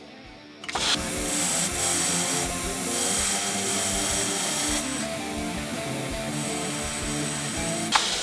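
A belt grinder with a worn belt grinds flat bevels on a heat-treated 1095 steel karambit blade, producing a loud, continuous harsh whine after a quiet start, with small shifts in pressure throughout.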